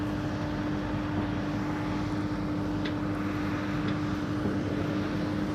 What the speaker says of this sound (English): That's the last airplane, the last 747 of today.